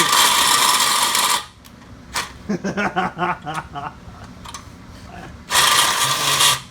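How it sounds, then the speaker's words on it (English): A power drill whines loudly in two bursts while drilling out a Sea-Doo XP water box, with a stretch of rapid mechanical clicking and rattling between them. "trying to drill out a water box"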